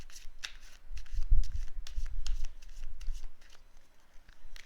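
Tarot cards being shuffled and drawn from a deck, a soft papery rustling with repeated light flicks and riffles, close and fairly quiet, with no talking.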